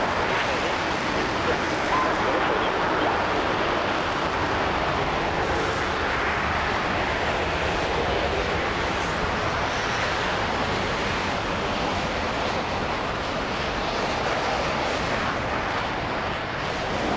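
Frecce Tricolori jet aircraft engines at takeoff, a loud continuous broadband roar that stays steady throughout, with no voices standing out above the noise.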